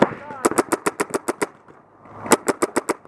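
A Planet Eclipse Etha paintball marker fires in rapid bursts during gameplay, giving two sharp volleys of evenly spaced popping shots close by, with a brief gap between them and faint voices in the background.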